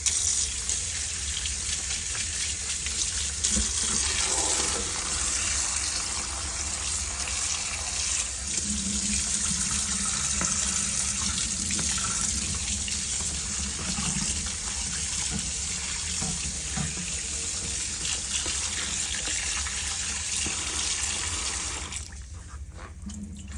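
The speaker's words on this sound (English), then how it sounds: "we wash it down with vinegar, lemon, and then run it through the hot water" Hot water streams steadily from a kitchen tap over raw fish being rinsed after a vinegar and lemon wash, a continuous close gush that tapers off near the end.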